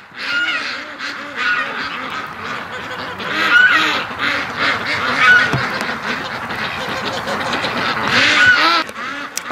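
A flock of ducks quacks continuously and busily while being herded into a pen at dusk, a dense overlapping chorus of close, loud calls with occasional honks.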